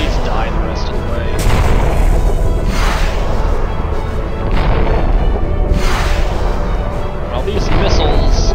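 Missile explosions in the space combat game Freespace: a string of heavy, booming blasts rolls out at roughly even intervals, each one a loud, full-bodied burst over a constant rumbling background.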